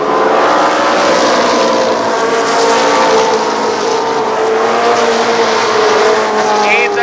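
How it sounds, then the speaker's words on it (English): Race cars roar past at Columbus Motor Speedway, a loud continuous engine howl with shifting pitch that fills the whole stretch, mixed with faint commentary. "He's apparently hearing Ward's car"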